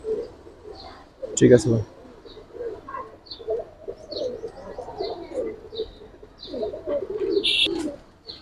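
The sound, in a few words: Giribaz pigeons cooing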